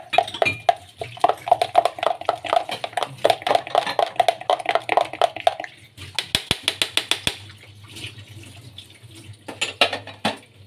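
Olives being stirred into a homemade kashir (mortadella-style) mixture made with rice, utensils clattering rhythmically against the bowl in steady repeated scrapes and taps, with a quick burst of sharper knocks near the end; no speech.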